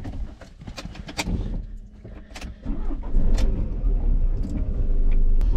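A van pulls away with its engine rising under steady road rumble, the drive-off noise growing louder over a few seconds, with scattered clicks and knocks on top.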